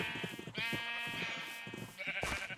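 Sheep bleating in the Minecraft video game, a couple of drawn-out, wavering bleats that sound close and clear, with no talk over them.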